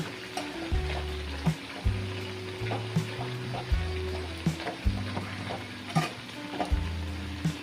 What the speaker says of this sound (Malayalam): കിഴങ്ങൊക്കെ വെന്ത് വന്നിട്ടുണ്ടെങ്കിൽ നമുക്ക് അതിലേക്ക് മല്ലിപ്പൊടി ഇട്ട് കൊടുക്കാം. നന്നായിട്ടൊന്ന് ഇളക്കി കൊടുക്കണം.